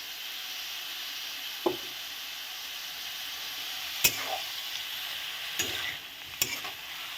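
Spice paste for a radish stem chachchari sautés in a pan with little water, giving a soft steady sizzle under occasional scraping and tapping of a spoon, close and fairly quiet.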